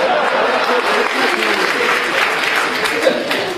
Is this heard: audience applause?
yes